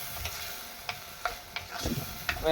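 Light sizzling of greens sautéing with a little turmeric in a pan, with a few scattered clinks of a spatula stirring, steady and close, no voices.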